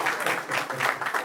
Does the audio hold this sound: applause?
yes